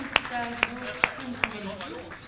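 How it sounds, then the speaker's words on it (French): A few sharp hand claps, about four in steady succession, ring out under a person talking at a ceremony in the Walloon Parliament. "On l'applaudit, bravo."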